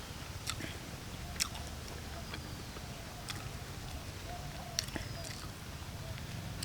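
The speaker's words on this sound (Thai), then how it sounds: "น้ำพริกอ่องของเขานะครับ กินแล้วครับผม" Someone chews and bites into Thai nam phrik ong, a tomato-and-chili dip, making soft, close, wet mouth sounds with a few sharper bites over a low outdoor background hum.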